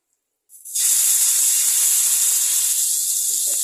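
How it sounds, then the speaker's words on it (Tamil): Fish frying in hot oil on a tawa gives a loud, steady sizzling hiss that bursts in suddenly and holds without a break, with no voices. "மீன் வறுக்க போகிறேன் கொஞ்சம் தவா காஞ்சி தான் இருக்குது எண்ணெய் ஊற்றிக்கிறேன்"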